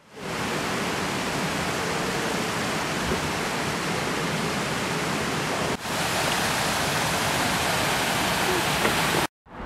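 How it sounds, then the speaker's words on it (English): A small waterfall in a cave, where a blue lake spills over, roars as a steady broadband rush of falling water from start to finish, close and loud, with a brief dropout near the end. "the Blue Lake actually goes over into like this little waterfall area,"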